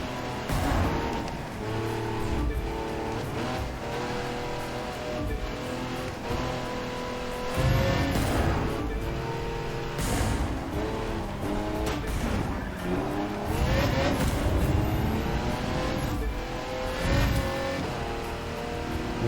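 A Lamborghini engine winds up through long gears at over 200 mph in the racing game The Crew 2, a steady loud drone with rising pitch sweeps and some tire noise, close and continuous.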